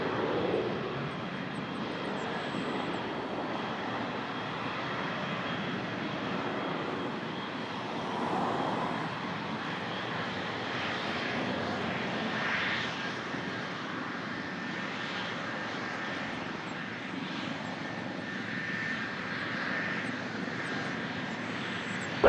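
An airliner at Toronto Pearson airport roars in a steady, sustained engine rumble that swells slightly and holds for the whole stretch, moderately loud.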